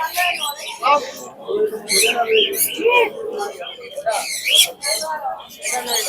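Chirps and squawks from many birds at a bird market in Mirpur, Dhaka, in light rain, mixed with a busy crowd of people chattering close by.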